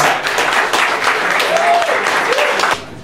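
Applause from an audience celebrating the winning team at a hackathon, a dense, sustained burst of clapping with cheering voices mixed in, fading toward the end.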